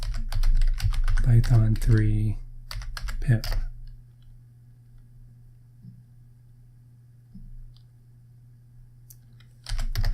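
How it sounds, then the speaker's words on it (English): A terminal command, sudo apt install for pip3 and Python 3, is typed on a computer keyboard in a few short bursts of clicky keystrokes. A person talks over the first part, and the rest is quiet. "So we type in sudo apt install"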